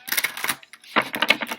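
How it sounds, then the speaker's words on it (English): Tarot cards being shuffled by hand: crisp, papery riffling in two quick flurries separated by a short pause, close and fairly loud. "One more shuffle."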